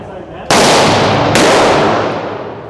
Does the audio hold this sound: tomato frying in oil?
no